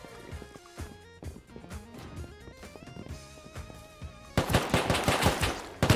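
Rapid automatic gunfire in the survival game Rust cuts in loud and dense near the end, a burst of sharp repeated shots following a stretch of layered game music and effects.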